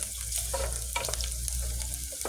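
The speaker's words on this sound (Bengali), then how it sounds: "এখানে রসুন, পেঁয়াজ, মরিচ ভেজে নিচ্ছি।" Garlic, onion and chili sizzle steadily in hot oil, with occasional stirring scrapes and clinks of a utensil against the pan, close and continuous without any talking.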